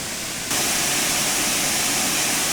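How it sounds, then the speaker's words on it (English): Loud, steady roaring hiss of a GWR 7800 class steam locomotive's safety valves blowing off, surging up after half a second and continuing without a break. "There's the safety valves going off again."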